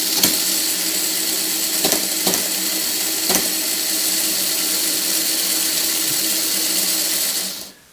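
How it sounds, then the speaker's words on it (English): Steady mechanical whir of motors running in a Meccano pinball pop bumper, loud and close, with a few sharp clicks mixed in before the sound cuts off at the end. "Right, so the motors are running."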